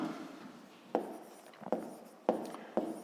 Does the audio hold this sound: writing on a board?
yes